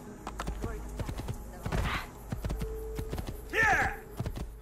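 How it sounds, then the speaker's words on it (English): Rapid clip-clop of galloping horse hooves in the video game Assassin's Creed II, a steady run of sharp hoof strikes under bursts of voices and crowd chatter. "Just run on the horse, run on the horse all the way."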